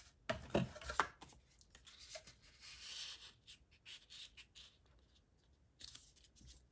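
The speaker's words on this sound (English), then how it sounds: "chop these down a little bit further" Scissors trim paper tags for a scrapbook tag pocket, giving a few close, quiet snips and rustling paper sounds in short irregular bursts.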